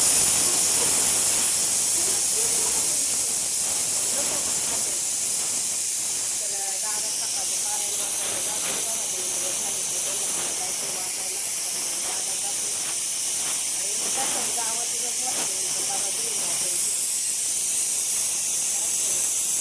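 A pressure cooker of masala rice vents a steady, loud hiss of steam that runs unbroken throughout, with faint background clatter and murmuring voices beneath it.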